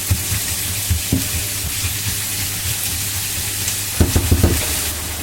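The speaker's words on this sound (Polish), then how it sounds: "wrzucimy pieczarki i będziemy smażyć, aż odparowuje woda" Onions and mushrooms sizzle steadily in a hot pan, with a constant frying hiss and occasional scraping stirs of a utensil.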